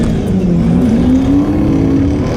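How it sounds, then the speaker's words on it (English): Ford XR6T race car at Motul Racewars, loud and close, engine droning at a steady high pitch that climbs slightly as the tyres spin, with a harsh rasping roar throughout. "He needs to stop wheel spinning."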